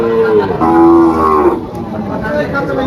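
A small cow moos loudly and close by at a cattle market, one long drawn-out low call that fades into quieter barn noise.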